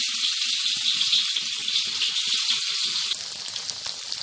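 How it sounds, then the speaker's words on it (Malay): Tofu sizzles and crackles steadily in hot oil, a bright, dense frying hiss with scattered pops; partway through, the texture shifts and grows busier, with no voices heard. "Sekarang kita masukkan tahu, goreng sebanyak 2 hingga 3 kali ya."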